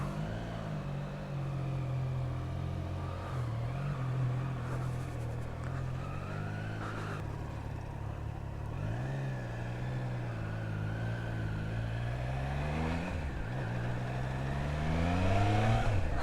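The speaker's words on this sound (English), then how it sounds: "first time moving the bike, first time putting on the first gear" Triumph Trident 660 three-cylinder motorcycle pulling away in first gear and accelerating up through the gears, engine pitch rising and dropping at each shift, steady and close.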